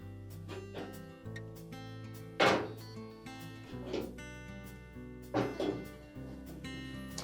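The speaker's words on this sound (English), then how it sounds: "we'll simply lift those off and then we can access that pan" Metal grates on a Whirlpool kitchen range being lifted off, giving a few clanks and knocks, two sharper ones standing out against a steady background hum, with no talking.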